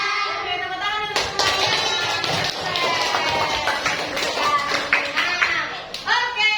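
A classroom of children claps hands in a short burst of rhythmic taps, fairly close and lively, with some young voices mixed in.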